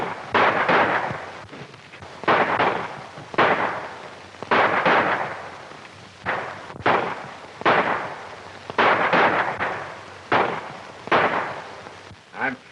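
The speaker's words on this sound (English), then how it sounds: "With the sounds of the shooting outside" Repeated gunfire outside in a 1935 western film, a dozen or so loud cracking shots with decaying echoes in a steady, uneven rhythm, heard alone with no talk.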